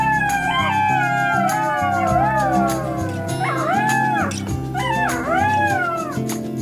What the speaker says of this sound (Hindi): सिर्फ झिंगुर की आवाज और कुछ लोमड़ी इधर उधर चिल्ला रही है